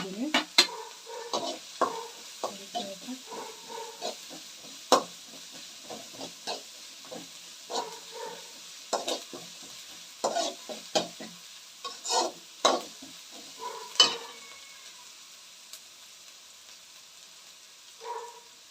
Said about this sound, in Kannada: ನಾನು ಕುಟ್ಟಿರೋ ಅಂಥ ಬೆಳ್ಳುಳ್ಳಿನ ಹಾಕ್ತಾ ಇದ್ದೀನಿ